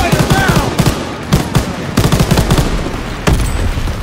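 Rapid automatic gunfire lays down suppressing fire in Call of Duty WW2, repeated bursts of machine-gun shots with a few brief gaps, loud and close amid a busy battle din.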